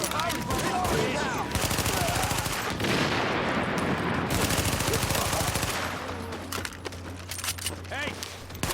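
Rapid gunfire in The Division, dense bursts of automatic shots crackling nearly continuously over several seconds, then dropping to sporadic shots with shell and debris clinks, mixed with game sound and voices.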